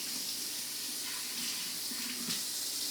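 Tap water runs steadily over blender blades rinsed in a sink, a close, even hiss with light splashing changes as the blades move through the stream.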